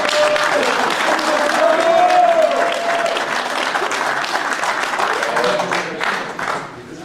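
An outdoor crowd applauds the handlers of a hare-hunting hound pack at a pack trial, steady clapping that holds for several seconds, then tapers off at the end, with faint voices mixed in.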